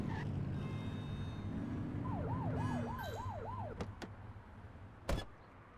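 A police car siren in a video game gives a short wailing blip of a few quick rising-falling cycles over a steady engine hum, followed by a couple of sharp clicks, with no talking.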